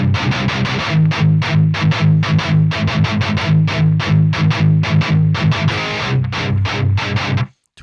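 Heavy distorted guitar chugs over bass and pounding drums in a dense metal passage, loud and driving throughout before cutting off abruptly at the end.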